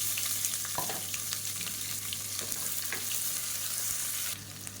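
Onions sauté in a pan with fennel and curry leaves for a salna, giving a continuous close sizzle broken by small stirring clicks and scrapes, with no one talking.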